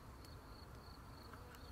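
Bees buzz around daisies and other wildflowers in a meadow, a faint, steady insect hum with short buzzing passes over constant outdoor background noise.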